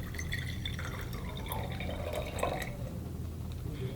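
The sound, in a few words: boiled water poured into mason jar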